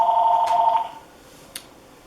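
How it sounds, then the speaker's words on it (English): A telephone rings once with a warbling electronic tone for about a second, then cuts off, leaving a quiet room and a faint click. "Sorry for the phone."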